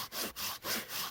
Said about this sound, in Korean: 횟셈이 돌릴 때 쓸 장작을 만들기 위해서 이렇게 자르고 있습니다.